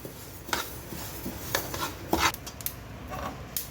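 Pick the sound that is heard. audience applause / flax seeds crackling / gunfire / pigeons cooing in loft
flax seeds crackling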